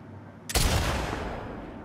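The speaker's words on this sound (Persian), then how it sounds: "تیراندازی که میکنی تو دسته حسش میکنی" A single sharp gunshot cracks from a gun in the video game The Last of Us Part II Remastered. A loud burst is followed by a rumbling tail that fades slowly, with no speech.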